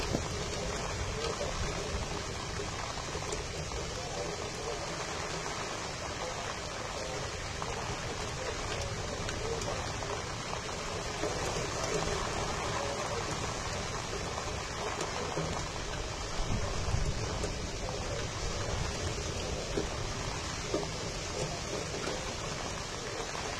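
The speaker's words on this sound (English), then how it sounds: "Just listen to the wind" Wind during a severe weather storm rushes steadily past a window, a constant broadband roar with slight swells and a few faint bumps, no talking.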